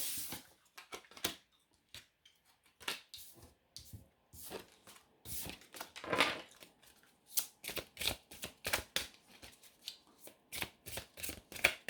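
Oracle cards shuffled by hand for a tarot-style reading, a long run of close, crisp riffling bursts, some quick and clustered, others spaced with brief pauses, and no talking.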